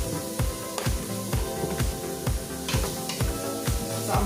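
Vegetables seasoned with onion powder sizzle steadily in a hot pan, with regular stirring scrapes and clacks of a utensil against the pan at close range.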